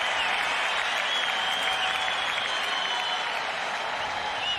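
A tennis crowd at the 2010 US Open semifinal applauds and cheers after a break of serve, a dense, steady roar of clapping that holds at an even level throughout.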